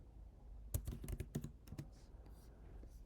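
Rapid keystrokes clatter on a computer keyboard while text is typed in Figma: a quick, close, uneven run of clicks that stops after about a second and a half.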